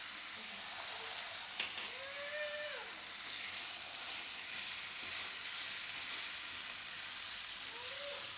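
Ridge gourd and potato with salt, turmeric and coriander-cumin powder sizzle steadily in a pan for Gujarati sambharo, a continuous close frying hiss with no talk.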